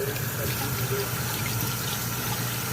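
Cauliflower rinsed under running tap water, a steady close rush of water pouring into a sink, unbroken and fairly loud, with a voice talking over it.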